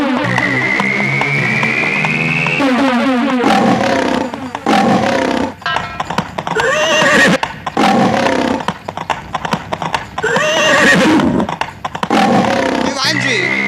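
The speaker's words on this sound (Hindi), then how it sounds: "पहले फिर आपका घोड़ा, फिर सबसे पीछे हमारा नीमा घोड़ी" Horses neigh and whinny in a dramatized Punjabi battle tale, their loud cries rising and falling over busy background sound and hoof-like clopping, with a held musical tone at the start.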